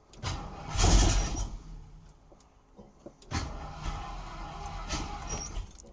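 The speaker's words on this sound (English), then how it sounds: "You can hear the starter sounding pissed off." A junkyard car's starter motor cranking hard on a weak battery, two strained bursts of grinding churning separated by a pause, fairly loud and close, without the engine catching.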